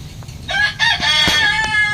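Nearby chickens clucking loudly, with a rooster's harmonic crow rising over the flock's chatter.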